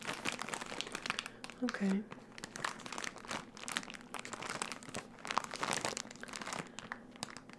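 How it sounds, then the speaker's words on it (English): A plastic goodie bag is crinkled and handled up close in a soft ASMR setting, with repeated crisp rustles and crackles that come in bursts, under a brief spoken word. "Seems like a good quality plastic bag."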